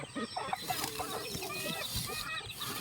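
Native chickens cluck and chatter continuously at close range, a busy overlapping flock sound with no talking.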